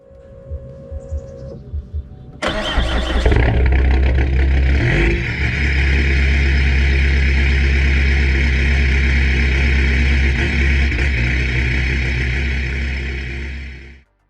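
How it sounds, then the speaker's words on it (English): An old diesel car engine starts up with a burst and settles into a loud, steady idle clatter, close by and continuous until it cuts off at the end. "The only real giveaway was the old-school diesel clatter, especially at idle"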